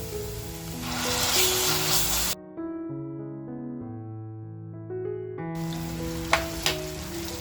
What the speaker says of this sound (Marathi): आता बघा खिमा आपल्याला आहे ना छान ह्याच्यामध्ये परतवून घ्यायचंय